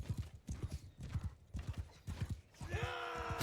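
Horse hooves clip-clop in rapid galloping rhythm during a Mount and Blade 2 Bannerlord battle, close and steady, with a brief whinny near the end over a rising tonal game sound.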